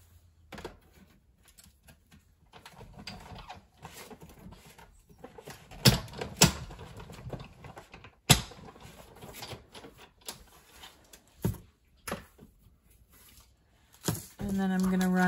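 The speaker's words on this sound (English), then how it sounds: "just gonna run these through my machine real quick" A paper die cutting machine cranks stamped card stock through its rollers, giving a string of close mechanical clunks and thumps that end in a steady whir.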